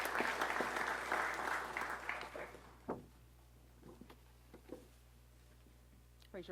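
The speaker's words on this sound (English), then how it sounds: "So let's give them all a round of applause before they take the oath of office." Audience applause at a Louisville police promotions ceremony, a burst of clapping that fades out after about three seconds, leaving a low steady hum with a few scattered taps and claps.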